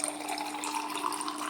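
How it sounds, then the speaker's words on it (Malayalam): Carrot and ginger juice pours steadily into a glass over ice, a continuous close liquid stream with no break. "ജ്യൂസ് ഒഴിക്കാം."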